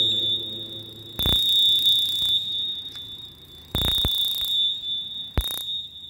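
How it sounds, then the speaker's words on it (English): A Jeep or holiday tester checks a coating for flaws, giving a steady high electronic tone with three loud bursts of broadband crackling spark discharge, the last one short. "here's the Jeep or holiday tester being used."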